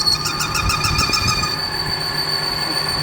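A lathe headstock runs noisily up close while thread cutting, a steady whirring drone with a high whine and a rattling mechanical clatter.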